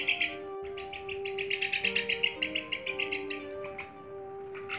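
Recorded trapping calls of the white-winged migratory starling: a rapid series of bright, rhythmic chirps over a steady whistled tone, close and clear with a short pause between phrases.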